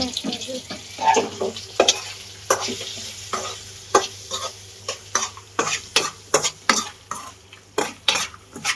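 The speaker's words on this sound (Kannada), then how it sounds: "ಗ್ರೇವಿಗೆ ಒಗ್ಗರಣೆ ಹಾಕ್ತಾರೆ." Chicken gravy tempering in a hot pan: a steady oil sizzle under a series of sharp metal clinks and scrapes as a spoon stirs, the strikes growing quicker and more regular toward the end.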